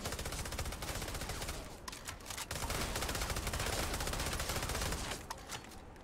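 Sustained gunfire from the video game Starfield comes as dense rapid shots repeating steadily for about six seconds. It sounds fairly quiet and continuous, with no talking.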